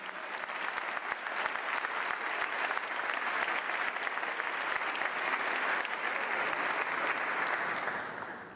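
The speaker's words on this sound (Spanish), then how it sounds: "Aplaudilo fuerte si lo estás entendiendo." A church congregation applauding loudly, a thick, sustained roar of many hands clapping that holds steady for several seconds before tapering off slightly at the end.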